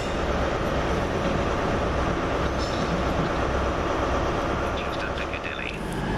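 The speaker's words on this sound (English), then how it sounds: "Here comes what will be the 1737 First Great Western service" A First Great Western train rolls into Oxford station with a loud, continuous rumble of wheels and engine, close by and steady throughout.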